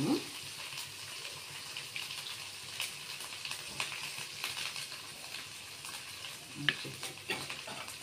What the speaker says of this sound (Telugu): ఒకసారి అల్లం వెల్లుల్లి పేస్ట్ పచ్చివాసన పోయేలా ఫ్రై చేసుకున్నాము